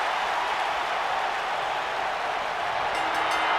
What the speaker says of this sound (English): Crowd here on their feet in Indianapolis.